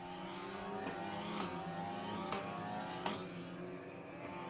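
Formula 4 race cars at NOLA run single file behind a Ginetta safety car, a steady engine drone with a few faint passing surges, distant and fairly quiet throughout.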